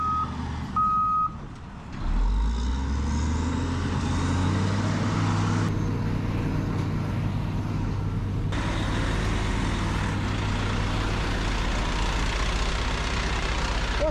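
A big dump truck works at a landfill; a few short reversing beeps sound at the start, then its diesel engine rumbles up loud and holds a deep, steady drone close by.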